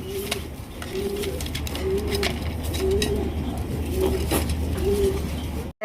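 Racer pigeons coo in soft repeated low phrases at a steady rhythm, fairly close, with faint rustling and light background noise.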